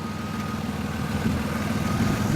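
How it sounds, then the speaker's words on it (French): A car engine idling after being towed in Gaspé, a low steady hum with a faint tonal drone, close and unchanging, with no talking. "Le moteur tourne."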